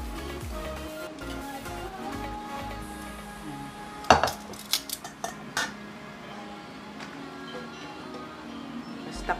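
Metal pots and pans clatter during pork steak cooking, first a steady kitchen hum with a fan, then a burst of sharp clinks and knocks as a lid is set over the pan, fading back to background.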